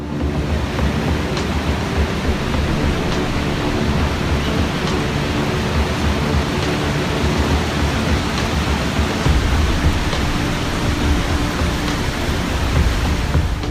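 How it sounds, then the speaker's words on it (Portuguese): Victoria Falls thunders near Devil's Pool with a dense, continuous rushing roar of falling water that stays loud and even throughout, with no voices. "Esta é a aparência da natural piscina do Diabo, em Victoria Falls."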